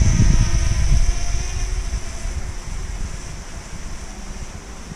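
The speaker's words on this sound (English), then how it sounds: "Looking to see if it's getting affected by the wind. Strong wind" Strong wind buffets a DJI drone's microphone outdoors, a loud rough roar that is heaviest at the start and eases a little while staying constant, with no voices.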